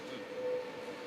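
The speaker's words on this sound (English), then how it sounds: "This is your train." Train passing near an apartment in Berlin, a steady broadband rumble with a faint sustained whine, moderately close and continuous throughout, with no voices.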